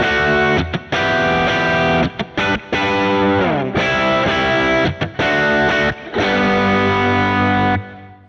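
Distorted electric guitar through a Kemper amp with a 2.5 dB mid boost at 550 Hz, playing chords and riffs with brief gaps, loud and upfront, ending on a sustained ringing chord.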